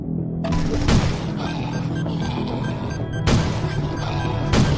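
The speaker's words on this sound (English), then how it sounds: "Pipe bomb." Loud booming pipe bomb blasts in the zombie game State of Survival, three heavy impacts spaced apart over a dense wash of battle noise.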